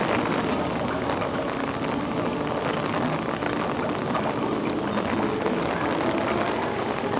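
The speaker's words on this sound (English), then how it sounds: "Since I have an umbrella, I can show you a little bit of the rain vibes here." Steady, dense rain falls at a theme park on an island themed area, a continuous close wash of patter on pavement and umbrella holding level throughout with no talking.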